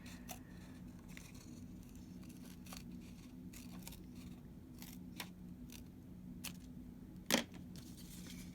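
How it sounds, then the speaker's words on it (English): Scissors snip through paper for a notan collage, a series of short crisp cuts spaced through the quiet with one louder snip near the end, close and clear with no talking. "I'm going to cut not too close to the edge."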